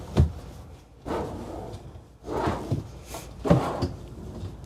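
Closet drawers in a 2024 Winnebago Navion 24D motorhome being slid open and shut, giving four soft wooden thuds and scrapes spaced about a second apart, close by and fairly quiet.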